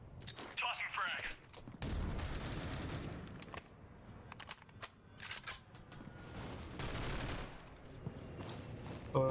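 Rifle fire in a competitive shooter game during a pro league match: bursts of gunshots and rapid fusillades, fairly faint, mixed with mechanical clicks and game effects, with a commentator talking over it.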